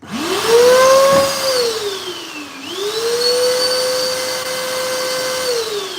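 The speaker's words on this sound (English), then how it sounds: "If it doesn't work now, I'm going to throw the vacuum cleaner out and buy a new one" A vacuum cleaner motor whines loudly nearby, its pitch dipping and rising again as it labors, then running steadily.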